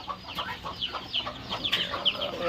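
Native country hens cluck near young chicks, with repeated short clucks and chirpy calls alongside light pecking and scuffling sounds, close and without talk.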